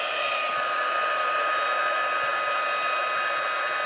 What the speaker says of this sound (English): One is to heat up your heat tool